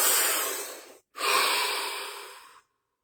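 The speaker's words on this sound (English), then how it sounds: "Deep breath." A deep breath taken during a guided body-scanning meditation: a long, close, breathy inhale that fades, a brief pause, then a slower exhale tapering into silence.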